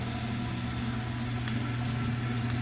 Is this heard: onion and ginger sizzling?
yes